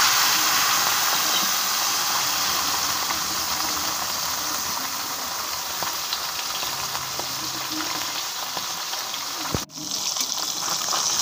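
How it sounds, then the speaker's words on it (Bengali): Live bata fish, cleaned and rubbed with salt and turmeric, fry in hot oil with a loud, steady, close sizzle that runs unbroken, broken only by one brief knock near the end. "এবার মাছগুলো সব ভেজে নেবো"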